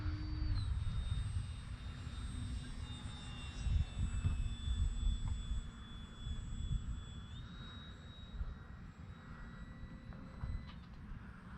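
A small 4-channel model airplane flies overhead while coming in to land, its engine a steady whining drone with shifting pitch, fairly close and heard alone.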